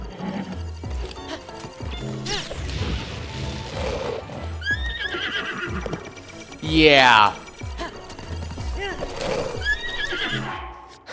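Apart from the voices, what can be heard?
horse neighing and galloping in video game Zelda: Breath of the Wild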